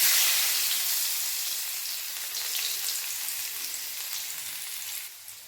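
Chopped garlic fries in hot oil with cumin for a broccoli and potato dish, a bright loud crackling sizzle that starts strong and slowly eases, with no talking.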